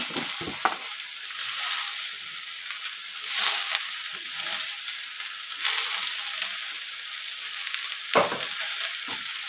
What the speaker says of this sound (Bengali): এই দেখো বাঁধাকপিটা অ্যাড করছি।